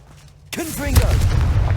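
A Confringo blasting spell goes off in Hogwarts Legacy: after quiet, a sudden loud burst hits, then a second sharp blast flows into a heavy, rumbling roar. A voice calls out briefly over the onset.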